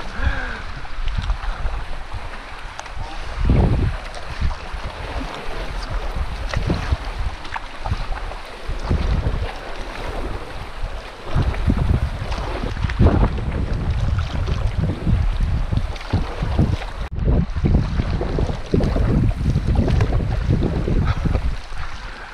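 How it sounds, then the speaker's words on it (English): Big waves on a lake wash and slap against a canoe during a river canoe trip, a loud, churning rush of water with gusty wind buffeting the microphone and no talk. "These are big waves."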